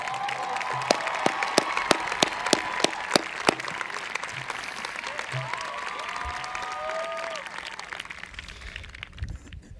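A graduation audience applauding and cheering for the boys volleyball team, dense sustained clapping from a large crowd in a hall with sharp individual claps popping out, fading toward the end.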